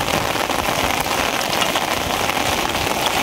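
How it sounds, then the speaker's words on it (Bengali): Heavy rain pours down on a river char during net fishing, a dense, even roar of drops on surfaces, loud and constant, with no voices. "এরকমই চলতেছে, সারাদিন সারা রাত্রে চলতেছে বৃষ্টি।"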